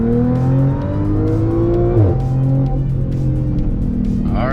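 A supercharged daily-driver car revs hard and launches, its engine note climbing steadily in loud, continuous harmonics before a brief shift dip and renewed pull, with a rising whine near the end.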